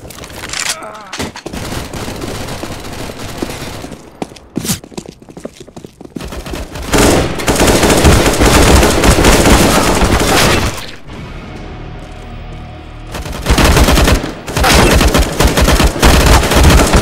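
Loud, dense gunfire from the video game Counter-Strike: Global Offensive fills most of the stretch, with rapid automatic bursts and single shots, broken by brief quieter gaps.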